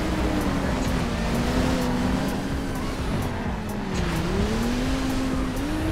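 A Ferrari race car in GTA 5 roars continuously at high revs, its steady engine whine dipping and rising as it shifts, with tires squealing throughout, loud and close.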